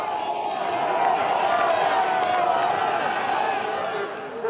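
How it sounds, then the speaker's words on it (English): Roadside crowd at an elite men's cyclo-cross World Cup race in Koksijde, Belgium, cheering and roaring in a sustained loud wash, with a commentator's voice running over it. "The crowd are loving this."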